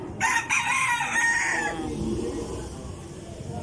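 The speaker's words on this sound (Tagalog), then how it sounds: "Ito naman yung mga manukan dito. Ayan. Mga manok." A rooster crows loudly and close by at a chicken coop, its call trailing off into softer clucking from chickens and background farmyard murmur.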